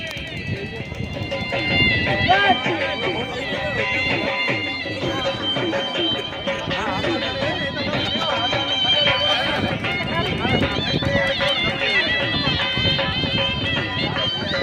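Horses galloping in a Kutch horse race at Dhanavada crossroads, their hoofbeats blended into a continuous rumble beneath a noisy crowd and loud speech throughout.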